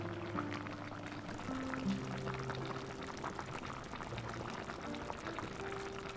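Braised chicken with aged kimchi bubbles steadily in a pot, a continuous soft simmering and gurgling with faint steady hum, no voices over it.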